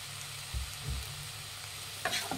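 A spatula stirs carrot rice with salt in a frying pan, with three or four scraping strokes over a low steady sizzle and a brighter clatter near the end.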